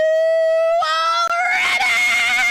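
A game streamer lets out one long, loud, sustained scream in an announcer-style voice, held on a steady pitch before it breaks into a rougher, wavering yell.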